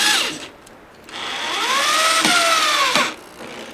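A power drill drives deck screws into wood for a bird feeder, its motor whining up in pitch through a short burst, then a longer sustained run that winds down, loud and close.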